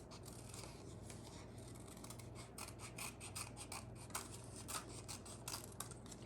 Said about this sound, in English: if I keep this closed and cut it out, then I'm going to have two ears that are exactly the same